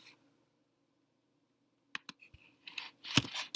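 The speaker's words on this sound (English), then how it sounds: "And then I'm going to go type in here" A burst of computer keyboard typing starts after a silent pause: quick, light key clicks in an uneven cluster, close and faint.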